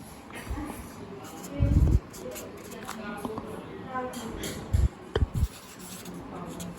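Chalk or marker scratching across a board in short strokes during a rate-of-speed lesson, with a few louder knocks and taps, all under a teacher's speech.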